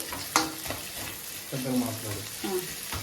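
Shredded cabbage and capsicum frying in a pan for street-style chicken fried rice: a close, steady sizzle with a sharp spatula knock near the start and a few scraping stirs.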